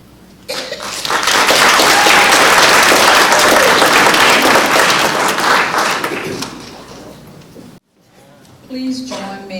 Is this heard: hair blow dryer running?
no